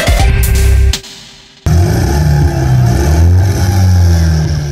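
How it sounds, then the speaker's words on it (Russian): Motorcycles rev loudly and close on Lenin Square in Mogilev as riders dressed as snowmen arrive for a Christmas and New Year event; a sustained engine roar dips briefly, then surges back. "Снеговики ворвались на площадь Ленина на мотоциклах"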